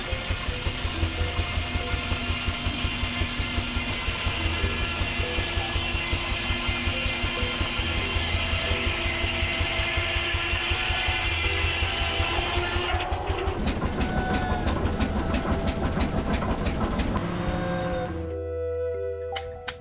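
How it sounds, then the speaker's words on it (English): The heavy old engine of a massive Rumely OilPull tractor runs loud and steady with a rhythmic chugging knock, its tone shifting rougher near the end, on its first start after decades idle. "The engine locks into a roaring power cycle that cannot be silenced."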